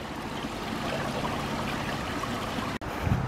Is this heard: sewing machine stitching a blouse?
no